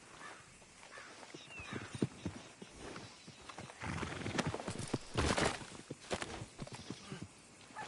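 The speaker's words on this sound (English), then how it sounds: "I'll take his horse." Horse hooves clip-clopping in the video game Red Dead Redemption 2, an uneven run of close hoofbeats with a whinny partway through, fairly quiet overall.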